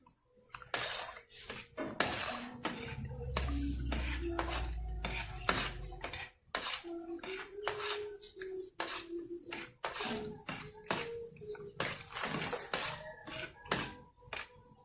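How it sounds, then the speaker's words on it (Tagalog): Homemade dishwashing liquid of surfactant and bubble booster stirred in a container with a ladle, giving repeated clinks and scrapes in an uneven rhythm, close and moderately loud, with a low sloshing rumble early on and no speech. "Stir well para mag-combine yung surfactant saka yung bubble booster."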